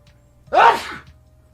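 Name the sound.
sneeze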